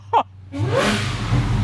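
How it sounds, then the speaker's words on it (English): A cold Dodge Charger Hellcat Redeye with a supercharged engine barks into a sharp rev that swells to a loud sustained roar and supercharger whine, close by, after a brief sound at the start. "you usually shouldn't rev an engine cold"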